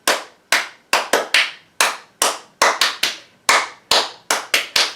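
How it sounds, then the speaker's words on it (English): Hands clapping in a slow, uneven series of about fifteen sharp, close claps during a preschool storytime, each crisp slap standing alone with short gaps between. "1, 2, 3, 4, 5 claps."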